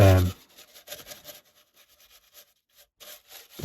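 A paintbrush rubs dust out of PC electronics in soft, faint scratchy strokes, with a louder brushing burst at the start and again at the end.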